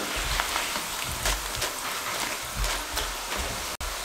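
Potato chips deep-frying in hot oil, a dense, close, steady crackling sizzle with scattered sharper pops throughout.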